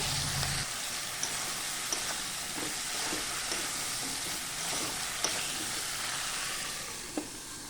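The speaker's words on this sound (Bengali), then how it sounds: "এরকম হালকা ভেজে নেব।" Chopped pointed gourd with garlic cloves, onion, tomato and green chilli fries lightly in a pan, giving a steady hissing sizzle with occasional soft clicks and stirring scrapes, close and continuous with no voices.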